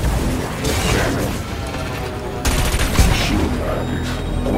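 Weapon fire from the cannon in Wipeout on PS4, heard as a dense, loud, continuous barrage of blasts and crashing impacts over racing noise, with a sharp burst around the middle.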